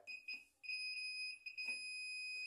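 A multimeter on continuity test emits steady high-pitched beeps while probing a shorted oil-filled run capacitor, sounding in short bursts then a longer sustained tone, close and clear.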